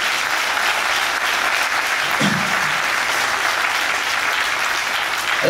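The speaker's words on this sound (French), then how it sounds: "Merci beaucoup, applaudissez-le." Sustained applause from a conference audience in a French lecture hall, steady and dense throughout with no speech over it.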